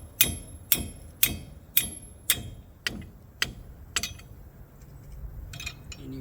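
Hammer blows on a 21 mm wrench fitted to the lug nuts of a 2012 Chevy Silverado 3500HD, about seven sharp metallic strikes in a steady rhythm, close and ringing, then a few lighter clinks.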